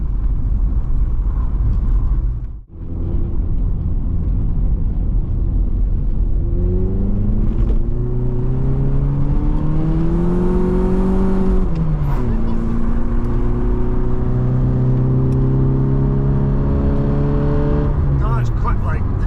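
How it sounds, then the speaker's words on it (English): An A-reg Vauxhall Nova 1.6i project car revs hard with its wheels spinning, the engine note climbing and falling in loud sustained sweeps close by, with a brief dip before the revving builds. "It's going nowhere, just spinning its wheels, isn't it?"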